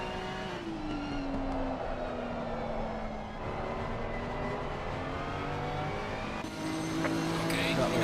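A race car at the Barcelona circuit in the PARC Pro-Am Racing Challenge drones steadily at high revs, its engine pitch sliding lower and then holding, loud and continuous, with a faint voice underneath.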